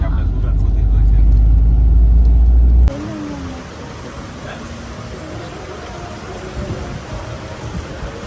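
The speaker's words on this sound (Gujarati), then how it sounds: "વરસાદ આવે જો વરસાદ." Steady rain falls through the night along a road trip toward Surat, a broadband hiss that starts heavy and loud, then settles into a softer, even patter with faint voices and road noise beneath.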